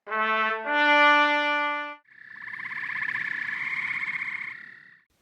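A cartoonish frog croaking effect: a buzzy, rattling croak that holds steady for about three seconds, preceded by two brief sustained tonal notes. It is fairly loud and close, with no talking.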